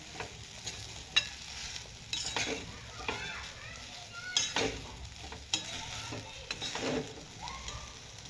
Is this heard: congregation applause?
no